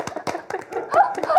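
A small studio crowd on a Korean political talk show applauds to welcome a lawmaker: a short burst of clapping, close and uneven, mixed with chuckles and voices talking over it.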